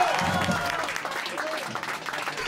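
A studio audience applauds Mex Urtizberea on a live Argentine comedy show, with steady, fairly loud clapping lasting a few seconds and voices and calls mixed in over it.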